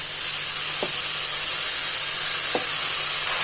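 Seeraga samba rice sautés in hot ghee with masala, giving a close, steady sizzle and hiss with a few soft stirring scrapes.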